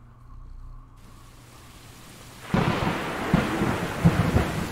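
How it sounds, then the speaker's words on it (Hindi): Rain and thunder in the video game Stray: after a quiet start, heavy rain bursts in and keeps hissing, with several low thunder booms rumbling beneath it. "बरसात वाला मौसम यार,"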